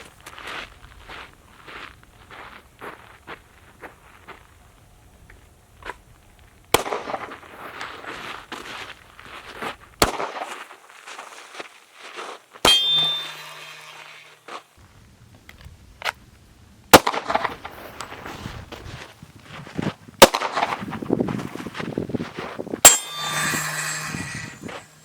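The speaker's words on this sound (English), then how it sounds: "I'll be shooting 1 bullet at one of each of 3 targets while I'm backing up" Pistol shots ring out one at a time against steel targets, each a sharp crack with a metallic clang, spaced several seconds apart while the shooter backs away; footsteps shuffle between the shots.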